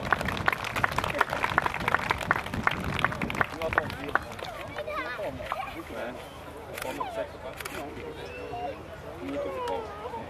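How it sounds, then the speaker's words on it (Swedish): Audience at a folkrace prize ceremony during the Folkracefestivalen in Motala claps in a dense burst of applause that thins over the next few seconds, and someone talks over the clapping and crowd chatter. "Hoppa upp högt på pallen så får du ytterligare applåder här"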